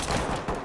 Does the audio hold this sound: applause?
no